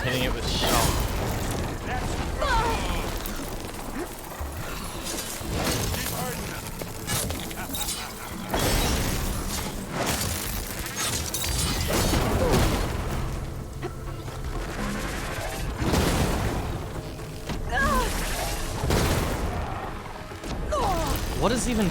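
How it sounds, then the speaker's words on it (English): In the video game Horizon Forbidden West, explosions, crashes and clanking machine noises erupt in repeated waves of loud, dense combat sound, while a player talks now and then. "Random explosions."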